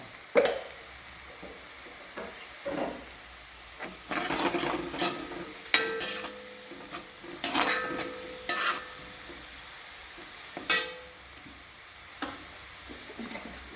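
Jackfruit pieces fry in oil with a continuous sizzle, interrupted by repeated stirring scrapes and metallic clinks of a utensil against the pan, close and moderately quiet, no speech.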